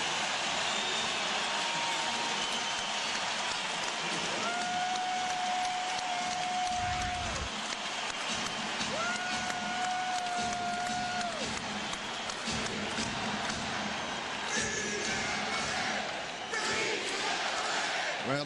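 A basketball arena crowd at a Lakers at Blazers game chants in a steady repeated rhythm, a broad roar of many voices with a few sustained tones, while a commentator talks over it.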